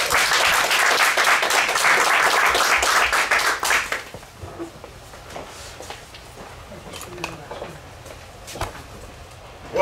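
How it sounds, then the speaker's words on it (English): Applause from the audience at a town council meeting, dense and loud for about four seconds, then fading to scattered claps and room noise. "round of applause."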